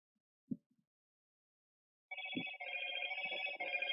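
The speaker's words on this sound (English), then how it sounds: "Excuse me, I have a phone call." A telephone rings with a continuous, moderately loud electronic tone, preceded by a couple of soft knocks in a quiet room.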